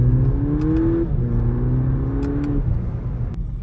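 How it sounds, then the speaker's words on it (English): A 2019 VW Polo GTI accelerating hard, its engine note climbing in a steady pull before easing and rising again, loud and close from inside the cabin with no talk over it. "I'll try one acceleration."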